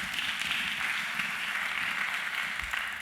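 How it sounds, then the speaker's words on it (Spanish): Steady applause from a church congregation, a dense continuous patter of many hands throughout with no pause. "Eso es un aplauso a Jesús, por favor"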